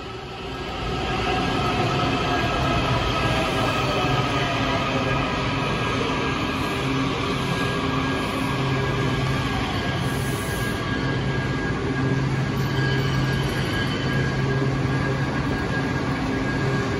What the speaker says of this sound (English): We are getting back on the subway.